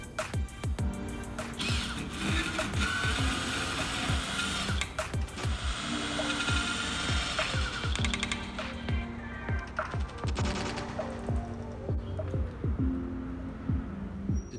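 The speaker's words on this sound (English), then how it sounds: "I got the smallest drill bit that I had in my collection, and I'm going to just drill this out." A tiny drill bit bores out a clogged rear washer nozzle on a Mini Cooper R50, giving a steady whirring, grinding buzz with repeated sharp clicks and ticks close by, continuous throughout.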